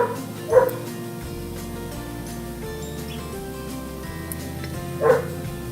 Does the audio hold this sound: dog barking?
yes